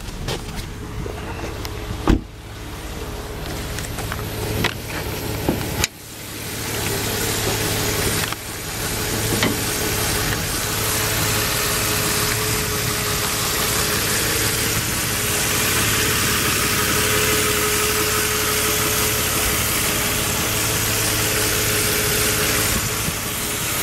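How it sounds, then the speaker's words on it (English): A 2006 Nissan Xterra with the off-road package, its engine idling under an open hood: a steady close mechanical hum and whir, punctuated early by a few sharp clunks, then running evenly and loud without talk. "Take a look at the engine."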